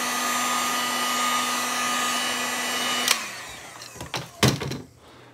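A heat gun blows steadily with a loud whooshing hum while heat-setting paint on the back and edges of a crankbait painted in a bluegill pattern, then cuts off abruptly, followed by a few sharp thunks and handling knocks.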